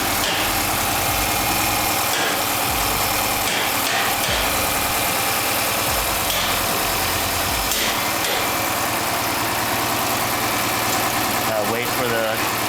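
Dodge 6.4 HEMI SRT8 V8 idling just after a lifter repair, a steady close rumble with a slight intermittent misfire, while a person talks over it.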